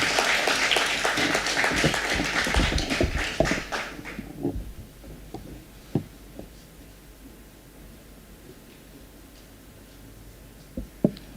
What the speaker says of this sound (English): give her a bigger round of applause